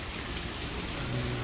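Rain from Hurricane Hilary falls as a steady, dense hiss around an apartment building, unbroken and fairly loud, with no voices.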